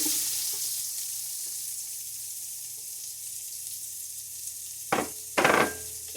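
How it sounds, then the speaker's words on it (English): Onion sizzles in a pot after beef has been browned for a pot roast, a steady frying hiss throughout with two short louder bursts of stirring or added food near the end. "I'm going to add the onion."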